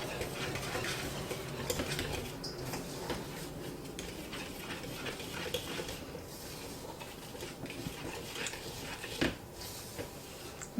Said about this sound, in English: And then I'm just going to whisk this together.